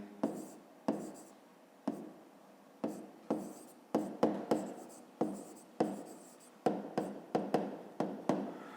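A pen scratches across paper as a school math exercise is worked out by hand: close, quiet strokes come in short separate bursts, each starting sharply and trailing off, with a few rapid clusters in the second half.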